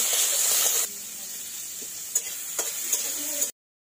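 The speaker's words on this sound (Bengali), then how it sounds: "চিংড়ি মাছগুলো ভেজে নেব" Turmeric-and-salt-coated shrimp dropped into hot oil in a kadai, a loud broad sizzle that drops to a steady softer crackle, with a few sharp pops and ticks near the end before it cuts off.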